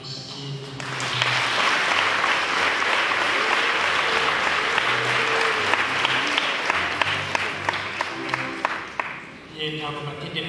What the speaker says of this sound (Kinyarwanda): mubere amashyi